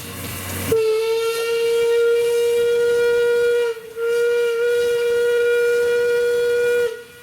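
A huge Škoda Plzeň steam locomotive sounds a long, loud whistle while standing on a turntable, one steady harmonic blast with a brief dip midway, after a short hiss of steam at the start.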